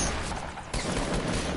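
Gunfire in a PS4 shooter game, with a quick rapid burst of shots, a brief dip, then more sustained firing, loud and dense over a short span.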